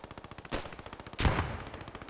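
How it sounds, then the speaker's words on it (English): Steady rapid gunfire crackles throughout a Post Scriptum battle by a riverbank, broken by two heavier grenade blasts, one near the middle and a louder one shortly after, with no voices. "A few grenadier blasts going out, a few rogue shots trying to suppress through the bushes"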